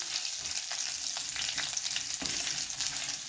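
Cinnamon and bay leaves sizzle in hot oil over a medium flame, a dense, steady crackling fry with faint stirring scrapes, close and continuous and with no talk.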